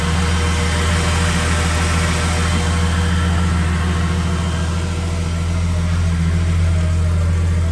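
A vehicle engine runs smoothly and steadily, a loud, continuous low-pitched hum with an even drone and no talk over it.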